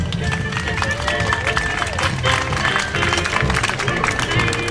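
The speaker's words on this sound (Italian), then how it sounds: "Un applauso!" Audience applause and crowd noise fill a cosplay contest hall, a dense, steady wash of clapping that stays loud throughout, with music and murmuring voices mixed in.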